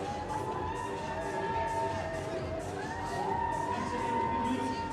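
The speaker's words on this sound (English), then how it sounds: "Some of the onlookers here at Snow World cheering on their favorite athletes" Onlookers at Red Bull Crashed Ice at Snow World cheer and shout steadily, with whoops rising through a loud, continuous crowd roar.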